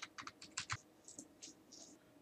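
Typing on a computer keyboard, a quick burst of close, quiet key clicks followed by a few slower, scattered taps.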